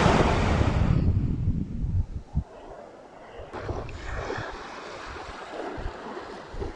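Surf and wind on Kinnaree beach in Thailand: a steady broadband roar of breaking waves with wind buffeting the microphone, loudest in the first second, then a continuous wash with no talking.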